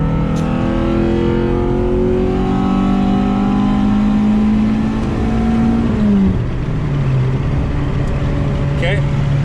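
A tuned Honda-style VTEC car engine pulls hard through third gear on a street, its note rising steadily in pitch as revs climb, then dropping at a shift around six seconds, loud and close inside the car.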